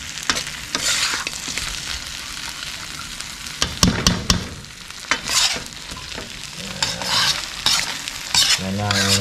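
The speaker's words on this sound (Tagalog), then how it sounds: "garlic and butter shrimp. Okay. Na luto ni Papa Bong" Garlic butter shrimp frying in a pan at home, a steady sizzle with repeated stirring and scraping clatters, close and fairly loud with no talk.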